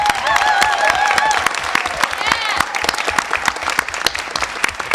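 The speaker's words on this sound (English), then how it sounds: "give him another round of applause" Applause at a board meeting held in a Florida hotel venue, honoring a member's long-standing service; dense, steady clapping fills the room, with cheers and whistles near the start and a voice briefly heard.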